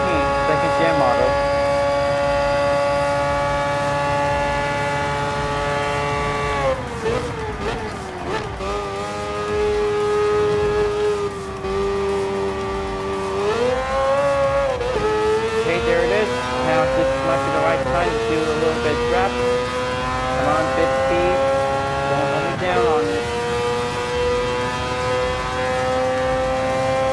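Audi R18 second-generation race car engine in Gran Turismo Sport, a loud sustained high-pitched whine that climbs through gears, dips on each shift and climbs again across a long continuous run.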